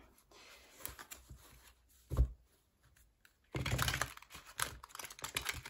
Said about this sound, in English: Let's give it a shuffle and see how it shuffles